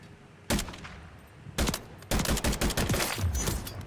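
Video game gunfire: a single loud crack, another shot a second later, then a rapid burst of repeated shots that keeps going, close and punchy with no voices.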